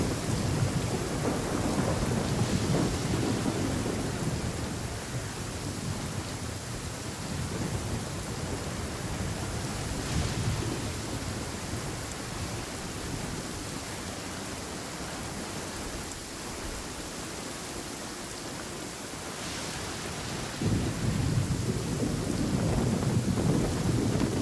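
Steady rain and rolling thunder in the Genshin Impact video game, a dense continuous downpour with low rumbles swelling near the start and end, with no voices.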